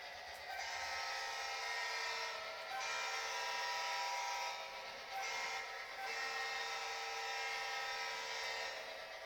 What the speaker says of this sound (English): Train coming around to the other grade crossing.